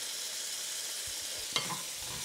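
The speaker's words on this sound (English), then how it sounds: "need to cook this until the tomatoes have softened" Chopped tomatoes and a little ginger for chutney sizzle quietly and steadily in a pan, broken by one sharp scrape of a spoon and a brief stir.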